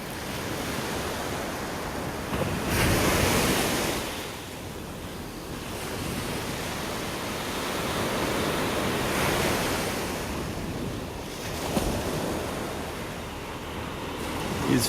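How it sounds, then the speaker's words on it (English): Ocean waves breaking and washing on a beach in North Naples, Florida, a continuous roar with slow swells rising and falling, mixed with wind buffeting the microphone; no voices. "everybody loves the beach."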